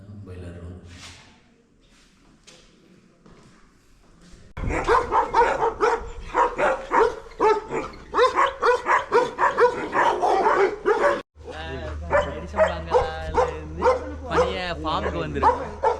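Several dogs of good breed at a bungalow farm bark loudly and repeatedly in rapid overlapping volleys, close by, with some yips and whimpers, while someone talks through parts of it.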